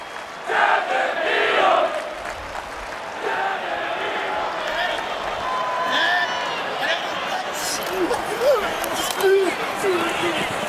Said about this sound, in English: Crowd chanting, Devin Neal.